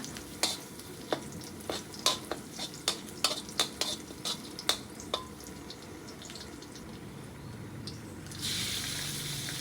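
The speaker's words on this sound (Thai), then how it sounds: "แล้วก็ผัดให้กระเทียมเหลืองเลยนะคะ" A spatula scrapes and taps rhythmically against a pan while stir-frying garlic, a dozen or so quick strikes over a soft sizzle, then a louder hiss at the end.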